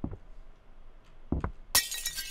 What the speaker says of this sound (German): Guck mal, wie viele schöne Scherben das sind.